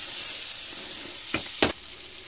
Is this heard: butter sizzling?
yes